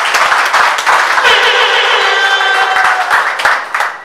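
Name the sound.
audience applauding the couple at a civil wedding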